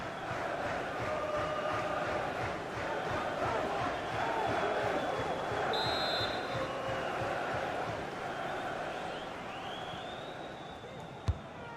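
Stadium crowd noise in the FIFA 22 video game during an FA Cup fourth-round match between Chelsea and Plymouth, a steady dense roar with swelling chants, loud and continuous, with a single sharp thud near the end.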